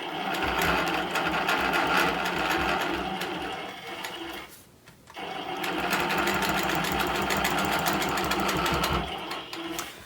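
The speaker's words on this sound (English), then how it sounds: "So I'm going to do a little stitching in the ditch." A quilting machine stitches in the ditch along a straight ruler, a steady rapid mechanical whir that runs continuously, breaks off briefly around the middle, then resumes just as loud to the end.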